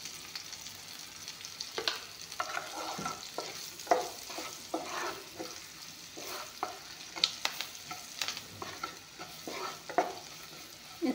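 Frying onion and garlic stirred after rangura is added, a low steady sizzle broken by repeated spatula scrapes and clinks against the pan in an irregular rhythm, close with no voices.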